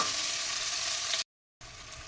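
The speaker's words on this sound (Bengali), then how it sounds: "যত সময় পেঁয়াজটা নরম না হয় আর এই টমেটোটা নরম না হয় ততক্ষণ একটু ভাজবো।" Onion and tomato sizzle steadily in oil in a pan, a dense close frying hiss that cuts out briefly before resuming.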